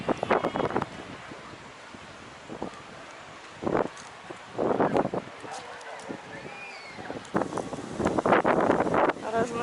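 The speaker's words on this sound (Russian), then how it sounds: "И ветер сегодня сильный." Strong outdoor wind on a hot summer morning in a seaside town, gusting in loud bursts of buffeting microphone noise and rustle that rise and fall over several seconds, with a voice speaking between gusts.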